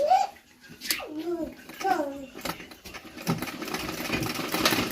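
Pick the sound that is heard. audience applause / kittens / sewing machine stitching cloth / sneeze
sewing machine stitching cloth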